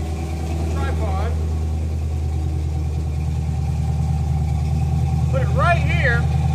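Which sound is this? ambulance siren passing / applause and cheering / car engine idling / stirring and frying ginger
car engine idling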